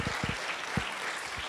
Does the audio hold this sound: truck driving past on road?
no